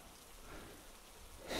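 Soft, steady rain falling outdoors, a faint continuous hiss of drops heard alone for a moment before a brief louder rustle at the end.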